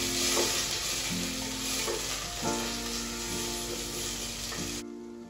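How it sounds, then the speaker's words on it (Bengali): Tomato frying in spices in a pan, a constant loud close sizzle with stirring, over background music, cutting off sharply near the end. "দেখো টমেটো ফোড়ন দেওয়া যাচ্ছে"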